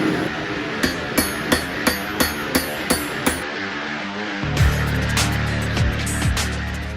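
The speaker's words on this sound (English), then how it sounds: "So let's get hammering." Sharp metallic hammer blows on hot steel over an anvil ring out in an even rhythm, about nine strikes, forging a railroad spike knife, followed by a low humming machine and a few scraping sounds.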